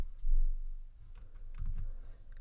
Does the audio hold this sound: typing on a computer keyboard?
yes